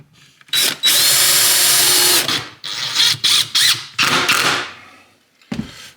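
A power drill drives screws into a wooden Adirondack chair, loud and close, with one long whirring run followed by several short bursts and trigger pulses, then a final brief spin.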